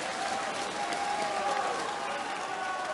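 Darts crowd applauding and cheering on Peter Wright in his comeback match against Phil Taylor: a dense, steady wash of clapping and crowd noise, with a commentator talking over it.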